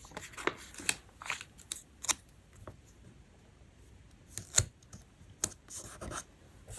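Pen drawing on paper in a Hobonichi Cousin planner, with soft scratchy strokes and light taps in irregular bursts, quiet and close, without talking.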